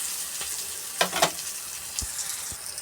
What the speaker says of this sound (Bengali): একটু ভালো করে ভাজা হোক আলু পটলটা